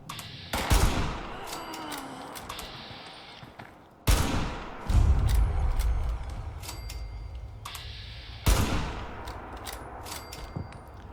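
Gunfire from a slow-firing weapon in the video game Fallout 76: three loud, sharp shots spaced a few seconds apart, each followed by a rumbling tail, with no talking.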